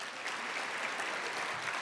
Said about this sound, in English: I want you to give a round of applause for every time I name someone